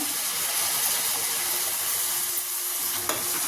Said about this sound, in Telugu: పుదీనా పేస్ట్ పచ్చివాసన పోయేదాకా ఫ్రై చేసుకుందాం